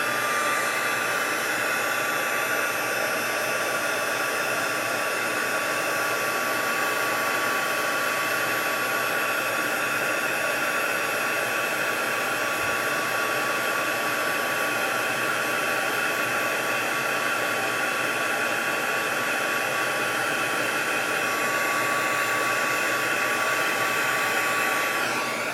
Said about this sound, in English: I'm just going to use my heat gun